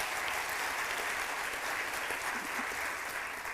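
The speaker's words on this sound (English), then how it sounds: "Give them a round of applause again for that." Audience applause at a scholars luncheon, a steady, even roar of many hands clapping from a large room, sustained at constant loudness throughout with no speech over it.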